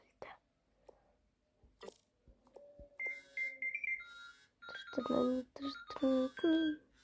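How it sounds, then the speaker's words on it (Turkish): Several short electronic notification chimes from a phone ring out close by, with quiet, hushed voices before them and clearer talk over the final tones. "Aa, bildirim geldi."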